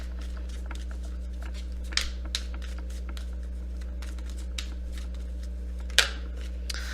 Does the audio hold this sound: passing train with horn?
no